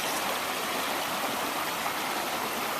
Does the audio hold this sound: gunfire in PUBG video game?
no